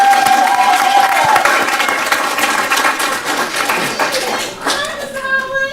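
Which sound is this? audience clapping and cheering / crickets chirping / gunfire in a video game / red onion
audience clapping and cheering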